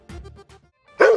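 A schoolgirl imitates a dog barking, giving a single loud, close bark at the end after a short murmur of voice.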